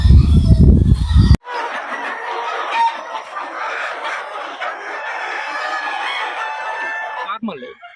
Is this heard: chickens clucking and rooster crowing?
yes